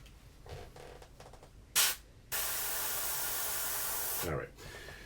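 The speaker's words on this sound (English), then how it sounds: "So all I'm doing there is adjusting the force of the airbrush." Airbrush spraying paint through a custom stencil, a steady close hiss running for about two seconds after a brief burst, with quieter tapping and handling sounds before it.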